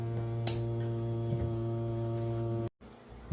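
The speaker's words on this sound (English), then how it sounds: "then you press the button and it vacuum seals your jar" An electric vacuum jar sealer, fitted over a jar of freeze-dried turkey stock, runs with a steady, close, droning hum that cuts off abruptly near the end.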